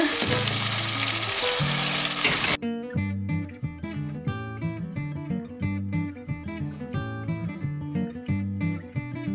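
Tomatoes sauté in a pan for a roasted tomato soup, a steady close sizzle that opens with a loud hissing burst and then settles into a continuous frying crackle with occasional soft stirring knocks.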